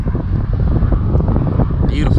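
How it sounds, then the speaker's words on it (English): Loud, constant wind buffets the microphone beside a truck with a low rumbling roar, and a brief voice-like sound appears near the end. "It's windy out today"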